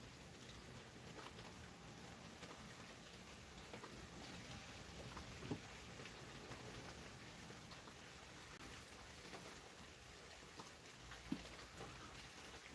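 Heavy rain falls outside in a continuous faint hiss, steady and distant, with no voices and only a couple of small knocks breaking the wash.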